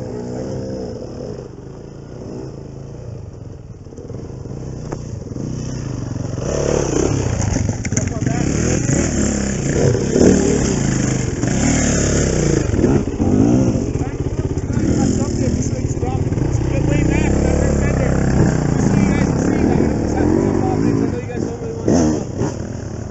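A 230 dirt motorcycle rides off a rock drop with no throttle, its engine running steadily and growing louder partway through amid rough clattering, while people talk over it.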